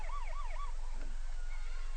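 A wailing, rising-and-falling siren sound effect plays at a 1986 high school football game between quarters, faint and distant under crowd noise.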